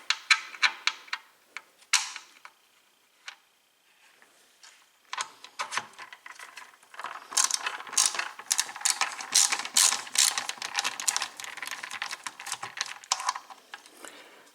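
Quarter-inch ratchet wrench working screws out of a Rainbow vacuum power sweeper, a close series of rapid clicking ratchet strokes in bursts with short pauses, growing denser toward the end.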